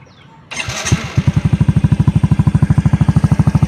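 A motorcycle engine is started up close and loud, cranking briefly before catching into a fast, regular idle of steady pulses that continues to the end.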